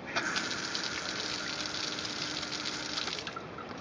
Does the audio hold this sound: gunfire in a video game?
no